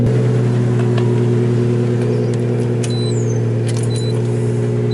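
Loud, boomy Nissan Skyline engine running steadily in a garage, a deep rumbling idle with strong low harmonics that holds throughout, close and alone.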